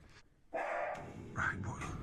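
A dog lets out a couple of short barks nearby, with faint background noise and no clear talking.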